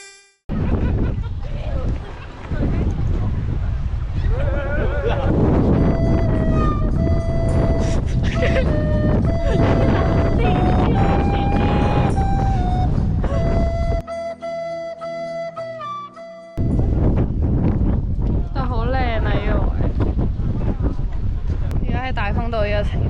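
Strong wind buffets the microphone at Gaomei Wetlands, a loud, rumbling roar that runs almost throughout, briefly dropping before returning, while people talk and a melody plays over it.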